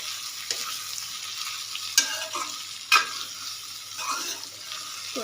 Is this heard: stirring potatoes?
yes